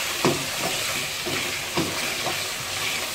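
Mutton cooking with black pepper and garam masala in a pan, a steady loud sizzle and hiss with a few soft stirring scrapes spaced through it, close up and without speech.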